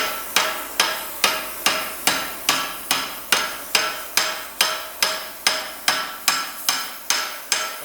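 Steady hammer blows on a rivet while forging wolf jaw tongs at a blacksmith's anvil, roughly two strikes per second in an even, ringing rhythm, close and alone without talk.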